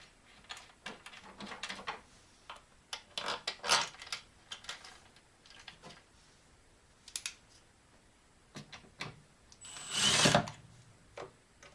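Cordless power drill driving screws back into a Samsung plasma TV during repair, several short quiet whirring bursts with pauses and small handling clicks, one longer buzz near the end.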